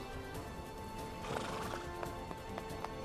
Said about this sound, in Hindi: मेरे सरदार, आपने घोड़े को अल्तुतान का नाम ऐसे नहीं दिया